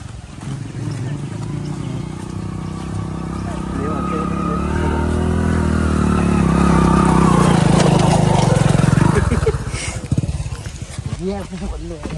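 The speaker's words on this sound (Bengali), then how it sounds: "মোটর সাইকেলে উঠছে" A motorcycle engine drones steadily as riders set off near Somsar ghat, rising in a long rumble before easing off, with people talking over it throughout.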